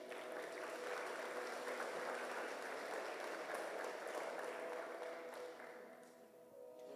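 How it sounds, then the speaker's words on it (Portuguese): A church congregation applauds during a sermon, a dense, sustained wash of clapping from many hands that holds steady and then thins out toward the end. "Vamos aplaudir Jesus por isso?"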